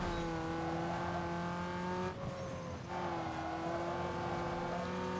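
A Mitsubishi Lancer economy sedan races in Need for Speed Underground 2, its engine holding a steady high-pitched drone with a brief dip as it shifts gears, then climbing again, loud and continuous.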